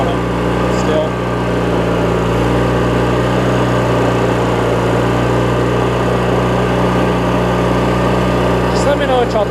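A Craftsman riding mower with a Briggs opposed twin engine runs at a steady, loud, close idle, its droning hum constant throughout with faint clicks near the start and end.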